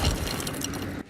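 A 6-ton, 12,000-pound concrete parking structure slab dropped onto cars makes one loud, close crunching crash of shattering glass and buckling metal. The crash lasts about a second, then cuts off abruptly.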